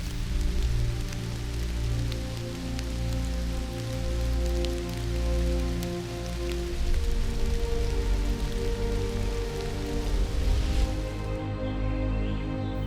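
A heavy downpour falls on a forest, a dense, steady wash of rain striking leaves and ground that holds at an even, loud level throughout.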